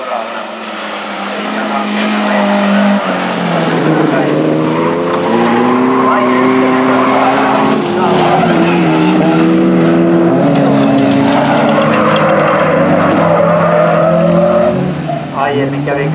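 Rally cars race at a Finnish rally event, one a Mercedes with a six-cylinder Weber-carbureted engine, its loud revving engine rising and falling through gear changes with tire noise, sustained and fairly close, under a commentator's voice.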